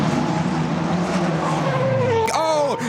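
A Formula Regional race car spins at Zandvoort, its engine roaring and then squealing through a sharp rev change as the rear wheels spin up, loud and close, under excited race commentary.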